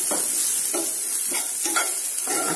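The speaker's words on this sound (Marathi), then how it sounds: "एक उभा चिरलेला कांदा याला पण छान परतून घ्यायचा." Sliced onion sautéing in a pan for misal: a continuous loud sizzle with rhythmic scraping stirs roughly every half second, close up and with no voices.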